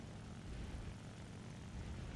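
Nakajima Ki-43-II propeller fighter engine in the War Thunder video game, climbing to regain altitude, a steady, broad rumbling drone held continuously at low level with no talk.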